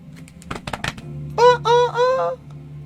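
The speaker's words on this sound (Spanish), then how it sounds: "Este es un gallo fino, por eso suena así" A fighting rooster, a fine gamecock, crows close and loud in one strained, harmonic call broken into three surging bursts, after a few sharp clattering knocks over a steady low hum.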